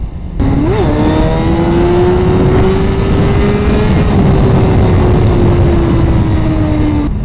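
A 2017 Suzuki GSX-R1000R sportbike engine blips during a third-to-second downshift, then holds a loud, steady, slightly rising drone near 6,000 rpm with wind rush and no talk.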